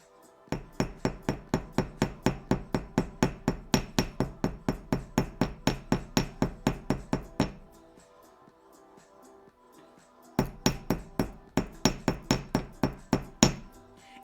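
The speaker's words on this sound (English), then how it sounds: "can I do the hammering?" Soft silver is hammered by hand in quick, evenly spaced metallic blows, a long run of about thirty strikes, a pause of a few seconds, then another fast burst, close and crisp.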